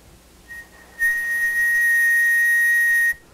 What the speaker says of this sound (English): when you have some sound source and you whistle it